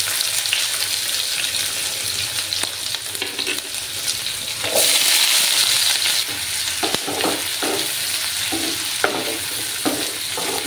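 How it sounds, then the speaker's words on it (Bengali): Two large sliced onions frying in oil over raised heat toward golden brown, a loud continuous sizzle broken by stirring scrapes and spatula clatter in the latter half. "পেঁয়াজগুলোকে আমি একদম গোল্ডেন ব্রাউন কালার করে ভেজে নেব।"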